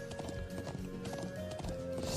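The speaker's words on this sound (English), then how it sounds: "just being able to rush with your horse through it" Horse hooves galloping in the video game Trails of Cold Steel, a fast rhythmic clip-clop over an open field with game music underneath, fairly quiet.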